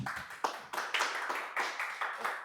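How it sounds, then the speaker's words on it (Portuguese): Applause for a guest on a Brazilian talk show, a small group clapping in quick, uneven slaps, close and moderately loud, with no voices over it. "uma salva de palmas aqui para nossa mineira"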